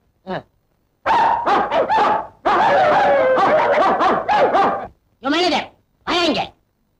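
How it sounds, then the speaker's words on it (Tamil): Several dogs bark in loud, overlapping bursts, a dense run of yelps followed by two more separate barks, close and clear. "4-5 நாயை கட்டி வச்சு கொலைக்க விட்டு கஞ்சி ஊத்துறியா?"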